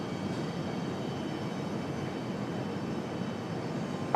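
Aircraft departing on the parallel runways at RDU, Raleigh-Durham International, a steady distant broadband roar of jet engines holding even throughout, with no voices.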